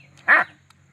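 A man vocally imitates a dog's bark, giving one short, loud, close bark-like yelp with a falling, whimpering tail, then near silence.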